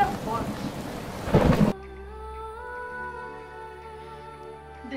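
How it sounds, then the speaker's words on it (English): Heavy rain pours in a forest during a sudden thunderstorm, with a loud rumbling thunderclap building to a crash before a quieter steady hum takes over. "A thunderclap that shook the mountains was heard in the forest."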